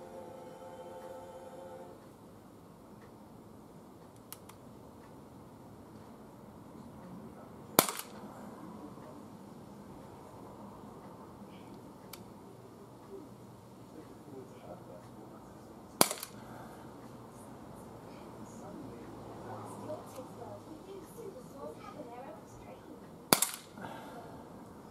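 A Bersa BP9CC blowback BB pistol fires five widely spaced shots outdoors, three sharp, loud cracks and two fainter pops, over a low ambient hum.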